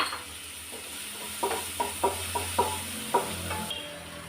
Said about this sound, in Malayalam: തക്കാളിക്കും ഇട്ട് നല്ലപോലെ ഒന്ന് വഴറ്റി എടുക്കട്ടെ